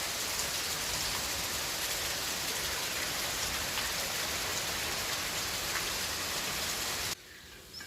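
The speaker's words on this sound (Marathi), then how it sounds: "इतका जोरदार पाऊस पडत आहे।" Heavy monsoon rain pours steadily over flooded farm fields, a dense, loud, unbroken hiss close by that cuts off abruptly just before the end.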